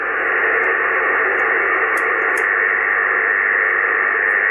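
Loud, steady hiss of HF radio band noise with no MFJ 1026 noise-cancelling unit in line, a dense broadband static wash with a few faint clicks, no voices.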